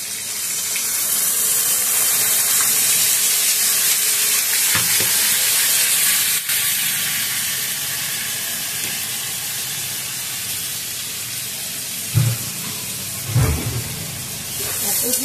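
Radhuni spice paste hisses and sizzles loudly in hot fish oil in a pan for cabbage ghonto, a steady close frying roar with a few soft knocks and stirring sounds toward the end.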